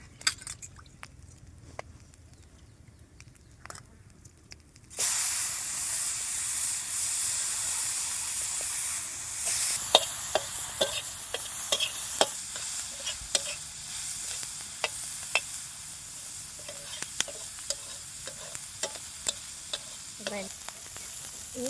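Garlic and green chilies roast in a hot pan. The pan is quiet at first, then a loud, steady sizzle starts suddenly, dotted with sharp crackles and pops, with no voices.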